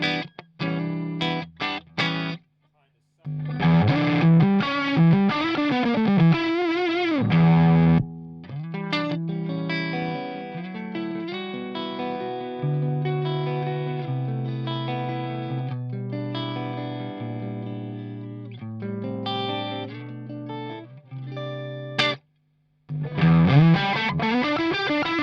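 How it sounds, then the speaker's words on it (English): A Victory V30 Countess guitar amplifier playing clean tones, a continuous run of chords and single notes with brief pauses, shimmering with chorus-like and slightly gritty effects, loud and close with no talking. "That great sounding clean tones"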